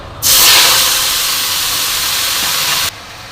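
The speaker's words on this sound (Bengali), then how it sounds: "এবার আমি কুচিয়ে ধুয়ে রাখা কলমি শাকটা এর মধ্যে দিয়ে দেবো" Chopped, washed water spinach hits hot oil already fried with mustard and radhuni seeds, setting off a loud, sudden, steady sizzling hiss that holds for nearly three seconds and then cuts off sharply. No voices.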